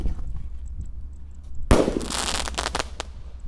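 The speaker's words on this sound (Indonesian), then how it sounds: "kita akan menyalakan mercon Bima Sakti" A size-4 Bima Sakti firecracker (mercon) is lit during an outdoor Ramadan evening, giving a sharp launch bang followed by a loud crackling, popping burst with several sharp reports, close by and with no talking.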